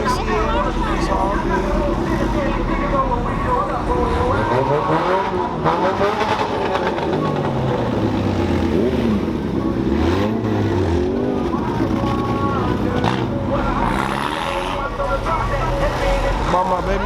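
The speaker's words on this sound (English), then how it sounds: "Got a burnout down there." A car does a burnout at a car meet, its engine revving loudly and tires spinning in a continuous roar at moderate distance, while people talk over it throughout.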